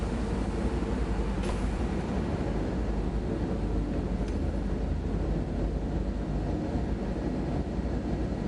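Train engine running in Train Sim World 4 on the Salzburg to Rosenheim line, a steady loud rumbling drone held throughout with no talk.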